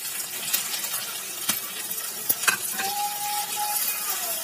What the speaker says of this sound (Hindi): अब इसे 1 मिनट तक भूनेंगे।